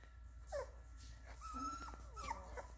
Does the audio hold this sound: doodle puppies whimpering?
yes